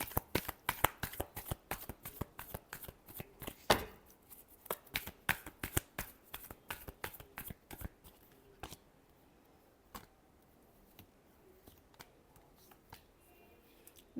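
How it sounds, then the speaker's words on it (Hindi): Tarot cards being shuffled, a fast run of crisp riffling flicks that thins into sparse, separate card snaps toward the end, close and alone. "Last shuffle."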